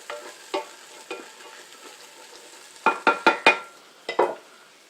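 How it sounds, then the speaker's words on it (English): Holy trinity vegetables sautéed in a pot, with a soft continuous sizzle broken by scattered stirring scrapes and a quick cluster of louder tossing strokes near the end. "you're going to saute those vegetables a little bit"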